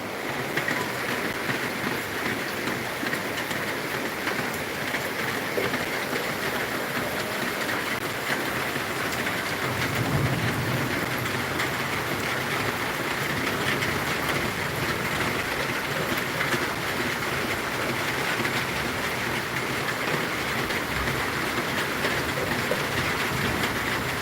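Rushing floodwater running through a flooded housing complex in Palembang, a constant broad roar of fast-flowing water, loud and steady with no pauses.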